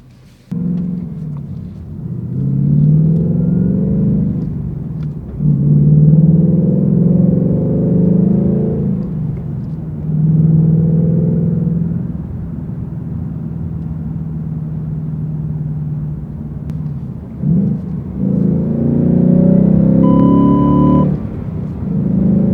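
A manual 2019 Ford Mustang GT rumbles loudly and steadily as it drives and pulls into a self-service wash bay, its engine tone rising and dipping between gear changes.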